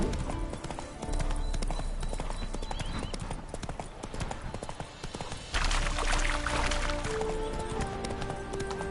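Hooves of Roach, a horse in The Witcher 3, clip-clop steadily through the full stretch over a dense game soundscape of music and ambience, with a brighter shift partway through.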